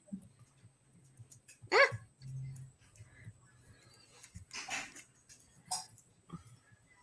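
A dog at home gives a few short, sharp barks and yips, spaced out over several seconds, fairly faint against a quiet room with a low background hum.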